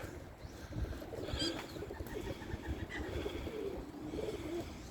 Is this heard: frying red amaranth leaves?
no